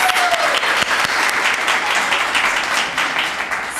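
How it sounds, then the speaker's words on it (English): Enthusiastic round of applause from a graduation audience of mothers, steady and full throughout the short stretch with no talking. "Give yourselves a round of applause."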